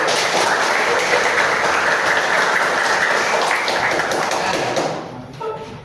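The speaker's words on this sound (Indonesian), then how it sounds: "Tepuk 1. Tepuk 2. Tepuk 3. Tepuk 4. Tepuk 5." A school class claps in a counted pattern: dense, steady hand claps fill the room for nearly five seconds, then fade out.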